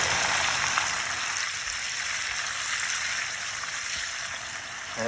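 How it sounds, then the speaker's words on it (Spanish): Jalapeños and onion frying in hot oil, a steady close sizzle with crackling spatter that holds continuously throughout. "Está unos jalapeños, cebolla, pues ya para que el aceite vaya agarrando este."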